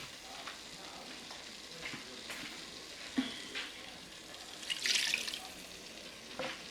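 Water poured into a hot frying pan of a home-cooked dish sizzles and crackles, with a burst of spitting steam midway and soft stirring scrapes, fairly quiet and without speech.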